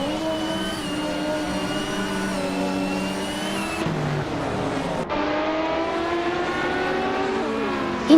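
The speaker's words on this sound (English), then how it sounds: "Ingo McCringleberry is starting on pole in a classic 1978 Ferrari 512 BBLM." A 1978 Ferrari 512 BBLM race car engine in a racing video game, a loud sustained high-revving whine with pitch shifts and two abrupt gear-change drops, continuous throughout.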